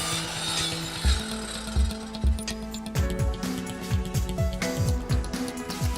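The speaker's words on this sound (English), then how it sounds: "A miter saw shears the edges and cuts the plastic lumber to its final size." A miter saw cutting recycled plastic lumber in a factory, with a steady whining motor and repeated rough grinding pulses as the blade shears the board, loud and close with no speech.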